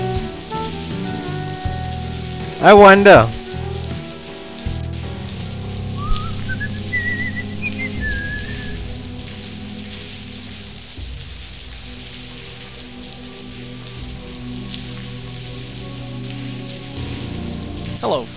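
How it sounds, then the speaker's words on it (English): Steady rain falls in The Blackwell Convergence, a soft continuous patter with a brief loud burst early on and a faint whistling tone; a voice briefly speaks over it. "And it's raining."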